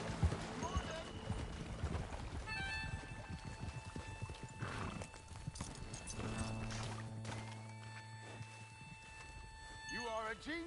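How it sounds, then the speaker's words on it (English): Horse hooves clip-clop steadily in Red Dead Redemption II, with a whinny and game music layered over the rhythmic footfalls and people talking in between. "but I can ride a horse"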